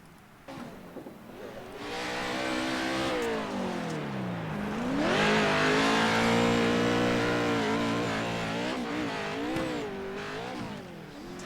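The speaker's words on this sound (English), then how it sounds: "Maybe we should actually like watch the truck do a lap." A PRO2 race truck works its engine through a lap of the Bark River track, revving and rising in pitch as it accelerates, then easing and climbing again, loud and close throughout with no talking.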